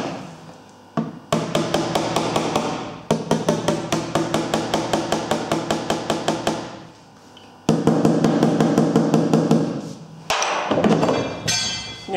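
Loud, close hammer blows straighten the rear fender panel of a Renault Symbol during body repair. The sharp metallic strikes come in long rapid runs, broken by brief pauses.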